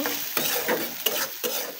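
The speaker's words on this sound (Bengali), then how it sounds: "এখানে পেঁয়াজটা আমার ব্রাউন করে ভাজা হয়ে গেছে।" Browned onions frying in a pan, with close, crisp sizzling and a few sharp scraping stir strokes at a quick, uneven rhythm, no voices.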